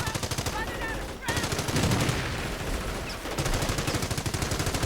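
Sustained automatic fire from a machine gun emplacement in a World War II strategy game battle, dense bursts of shots with a heavy low thump running nearly the whole time, some brief pauses, and faint voices in the mix.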